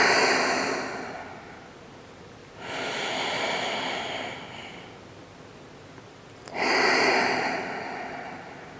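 Slow deep belly breathing in an extended child's pose, three long airy breaths in a steady rhythm, each swelling and fading, close to the mic with no speech.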